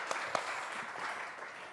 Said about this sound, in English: We could clap again.